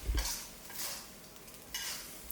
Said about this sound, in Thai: นี่ครับผัดไปเรื่อยๆแบบนี้เลยนะครับ